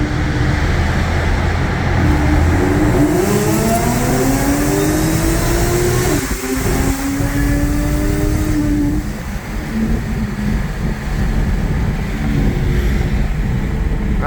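Audi A6 3.0T fitted with a Gibson anti-rasp muffler, exhaust rumbling and rising in pitch as the engine revs under acceleration while driving, steady and close with road noise throughout.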